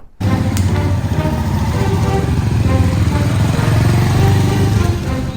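A motorcycle setting off on a long monsoon ride from Mumbai to Varanasi starts suddenly and holds a loud, close, steady engine rumble.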